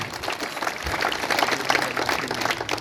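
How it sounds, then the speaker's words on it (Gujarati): An audience applauds candidates at a municipal election gathering in Karjan, steady broadband clapping sustained throughout, moderately loud with crowd texture. "એના માટે આપણે તાળીઓ પાડીએ"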